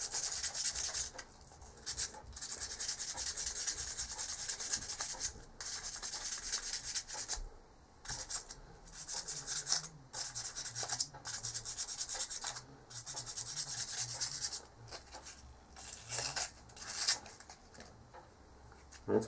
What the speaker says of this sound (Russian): Наждачная бумага берется для шлифовки, нулевка